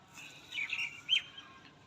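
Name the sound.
pigeons for sale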